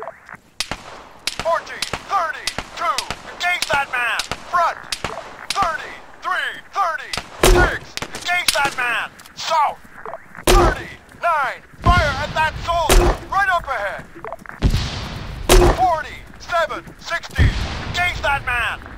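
Gunfire in the military game Arma 3: sharp, loud shots crack out one at a time and in short bursts at irregular intervals, near and distant, while soldiers keep calling out over the firing.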